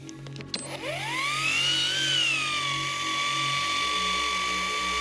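A rotary polisher with Cartec Rapid Cut 4000 compound spins up with a rising whine, then holds a steady, loud mechanical drone up close while buffing decal outlines from a 2024 Renault Clio's paint, with no talking.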